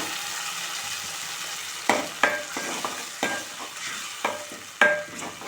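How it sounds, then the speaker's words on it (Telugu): Cashew and almond puree frying in butter on a low flame, a steady soft sizzle punctuated by several distinct spatula scrapes and taps, no talking. "మంచిగా లో ఫ్లేమ్ మీద ఆయిల్ మొత్తం పైకి వచ్చే వరకు ఫ్రై చేయండి."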